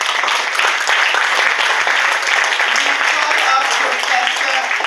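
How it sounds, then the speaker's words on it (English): Steady, dense applause fills a graduation ceremony hall as the Student Council is called forward, a continuous even wash of many hands clapping at constant loudness throughout. "Please give them a round of applause."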